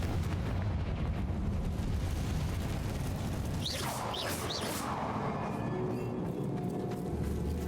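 Magical Confringo blasting-curse explosions from the Hogwarts Legacy video game on PC, a few rumbling bursts with crackling tails over a dense, steady game soundscape, no clear talk.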